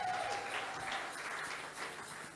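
A church congregation applauds and acclaims Jesus Christ, with a dense, steady clapping that fades slightly and a faint voice underneath.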